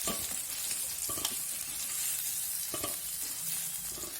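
Okra masala (bende masala fry) sizzles steadily in a pan, with several short scraping stirs of a spoon breaking through the constant close frying hiss.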